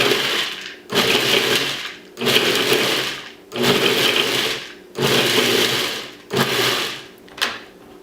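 A food processor pulses almonds, parsley, garlic and olive oil in six loud, even bursts of whirring blade noise of about a second each, separated by short pauses, with no talking.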